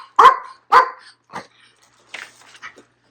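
A pet dog lets out two loud, sharp barks up close, followed by a few softer yips and whimpers as it waits for food.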